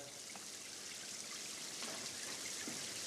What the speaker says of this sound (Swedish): Låt det gå lite mera regn, hör du, så går luften ur röret.